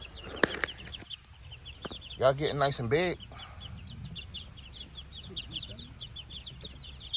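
Backyard chickens clucking and squawking in a farm run with an automatic feeder, with loud close calls early on, softer clucks and chirps afterwards, and a person talking to them.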